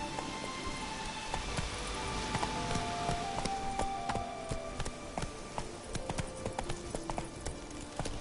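Horse galloping in a PS4 video game, a busy run of rapid hoof clip-clops with other sharp game effects scattered through, fairly faint overall and continuous for the whole stretch.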